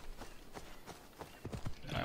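Horse hooves clop in a quick irregular rhythm in the video game Assassin's Creed Odyssey, faint and growing busier toward the end, with no voices.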